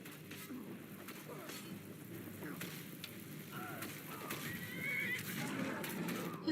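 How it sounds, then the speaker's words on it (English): Horses neigh and whinny while fighting in the fantasy video game Skyrim, the cries rising over a busy, rustling game soundscape that grows slightly louder toward the end. "The horses fighting."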